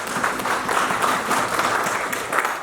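An audience at an association executive meeting in an assembly hall bursts into steady, dense applause, many hands clapping together in a continuous wash that fills the room without pause.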